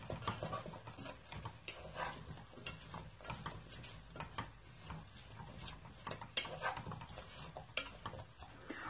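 A wooden spoon stirring beef bourguignon with onions and carrots in a pot, a faint, close scraping and clinking against the pot repeating irregularly, with soft knocks and no talk.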